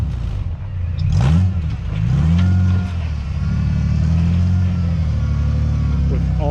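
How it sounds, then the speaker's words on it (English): A custom four-wheel-steer Ford Ranger fitted with tractor-style rear fenders revs its engine close by. The pitch rises and falls in repeated swells over a steady, loud rumble, and crowd noise carries in the background at an outdoor power event. "ran into this four-wheel steer Ranger."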